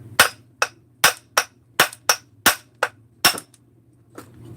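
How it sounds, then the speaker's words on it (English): A chipper hammer strikes Husqvarna 394/288 chainsaw parts in about nine hard, close metallic blows at an uneven pace, over a low steady hum, before a fainter last knock. "chipper hammer is not exactly appropriate"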